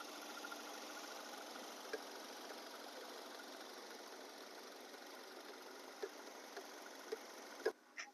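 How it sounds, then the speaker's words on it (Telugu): A 2020 Hyundai Verna 1.6 SX top-end sedan idles quietly with a faint, even hum, broken by a few soft ticks near the end. "ఇంజిన్ చూడండి ఎంత సైలెంట్గా ఉంది."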